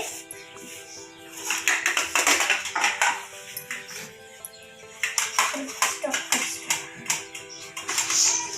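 A boiled potato is grated by hand for aloo paratha, giving rhythmic rasping scrapes against a metal grater in repeated bursts with short pauses. Someone talks under the scraping throughout.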